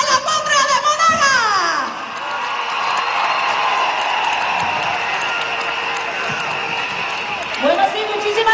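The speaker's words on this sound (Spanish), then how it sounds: "Vamos a recibir con este fuerte aplauso" A crowd at a political rally in Maturín breaks into sustained applause and scattered cheering after a voice finishes speaking, the clapping steady and dense before talk resumes.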